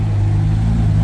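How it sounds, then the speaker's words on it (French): A Porsche 993 Turbo idles with a steady, low engine rumble, close and continuous, with no talk over it. "Une 993 turbo qui nous provient du Koweït."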